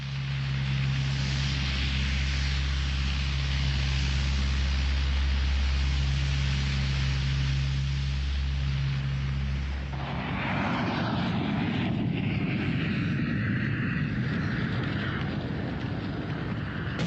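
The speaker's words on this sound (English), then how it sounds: "As the giant Hercules lumbers down the runway for takeoff" A heavily loaded Hercules transport plane rolls down the runway for takeoff, its steady propeller drone loud and close before shifting into a broad, rushing roar as it gathers speed.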